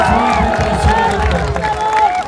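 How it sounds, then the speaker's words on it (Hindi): A large crowd at a Lok Janshakti Party (Ram Vilas) political rally erupts in loud applause and cheering, with a shouting voice carried over the roar. "मैं चाहता हूँ एक बार जोरदार ताली से"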